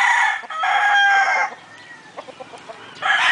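Roosters, fighting stags kept in Caoayan, Ilocos Sur, crow loudly and close, one long crow followed by short clucks and a second crow starting at the end.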